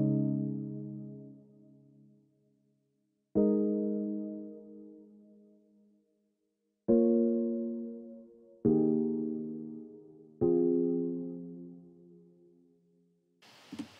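A synth plugin patch plays five sustained chords, each struck and left to decay slowly with gaps between, soft and alone, ending in a brief burst of noise.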